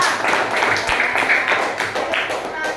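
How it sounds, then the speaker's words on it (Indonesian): A class of fifth-grade children claps for Mbak Ulfa, a dense burst of hand clapping in a classroom with children's voices mixed in, close and lively for a few seconds. "Tepuk tangan untuk Mbak Ulfa."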